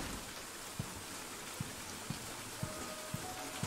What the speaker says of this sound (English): It's raining outside. Beautiful.